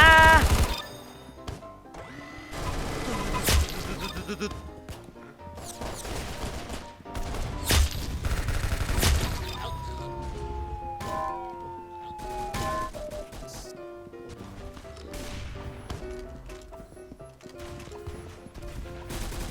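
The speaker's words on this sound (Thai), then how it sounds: "กูยิงไม่โดนกูยิงไม่โดน" Gunfire in a Roblox video game: a dense, loud run of shots and crashes over about twenty seconds, with musical tones and game effects mixed in.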